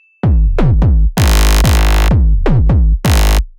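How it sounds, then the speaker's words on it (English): Heavy, punchy bass hits stack into a dense drop layering a gritty bass, a sub and a third bass, with sharp thumps and a sustained gritty middle section, loud and without voices. "So the second part of the drop has 3 layers of basses"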